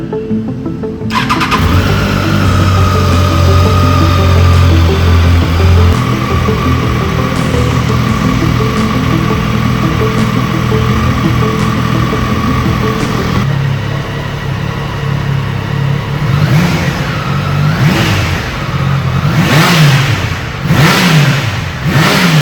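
A Triumph Daytona 660 inline-triple motorcycle with an underbelly exhaust starts up close by, settles into a steady idle, then blips through a run of sharp, rising throttle revs near the end.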